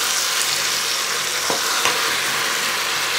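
Pork ribs sizzling and frying in a heated multicooker pot, a loud, dense crackle of hot fat that runs steadily throughout, with a couple of brief scraping knocks from stirring.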